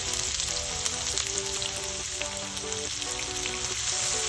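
Onion frying in hot chorizo oil in a pan gives a steady, loud, close sizzle that holds level throughout, with faint tonal sounds running beneath it.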